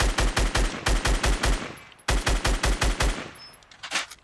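Rapid bursts of automatic gunfire from the Fortnite battle royale game, two quick strings of evenly spaced shots separated by a short pause, ending in a few scattered single shots, loud and close with no talking.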